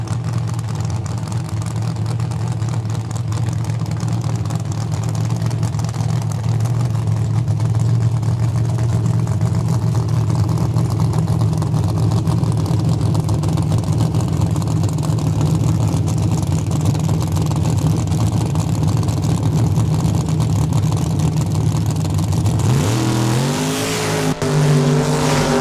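A red Camaro, number 73 Red Eye, runs the quarter mile at a drag strip with a loud, steady engine roar that builds continuously, the driver working on and off the throttle, then a sharp shift in pitch near the end.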